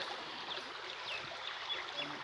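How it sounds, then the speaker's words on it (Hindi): A clear spring-fed stream flows in Sindh, giving a faint, even babble of running water throughout, with a few soft high chirps scattered over it. "ये चश्मे की नदी जा रही है, चश्मे का पानी है।"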